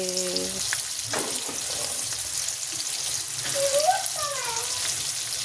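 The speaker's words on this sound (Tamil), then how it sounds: "இது மீன் வறுத்துட்ருக்கேன்." Fish fries steadily in a pan of hot oil, with a continuous close sizzle and occasional crackles and bubbling pops.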